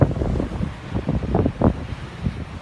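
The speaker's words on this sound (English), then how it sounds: "A few waves coming in. Some big waves out here." Big waves roll in and break along a rocky shoreline with low ledges, a steady loud rumbling wash with surges of surf and some wind buffeting the microphone, no voices.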